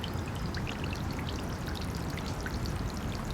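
A small 3.5W solar fountain pump sprays water into an 18-inch bird bath, giving a steady, close splashing and trickling patter that runs evenly throughout with no pauses.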